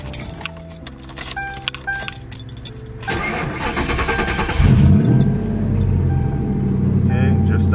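Keys jangle close by in several bright rattles before a turbocharged 4.6L V8 Mercury Marauder cranks, catches and settles into a loud, steady idle.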